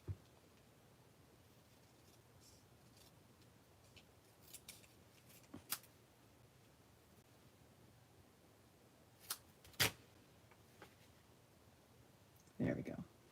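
Paper being trimmed with scissors for a craft project, heard as a few scattered, faint snips and clicks spread across a quiet room, with the last cuts a little louder.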